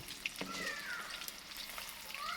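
Special fish kantaki fries in a pan with a faint, steady crackling sizzle, quiet and close, broken by a brief click and a few soft tonal sweeps.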